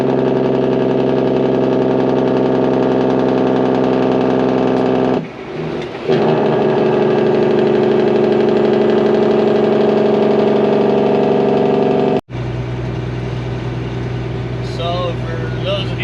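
Heavy truck engine running loud and steady with a deep, throaty Jake brake engine-braking rumble on a cold day, broken by a brief dip around five seconds and a sharp cutoff near twelve seconds before the drone resumes.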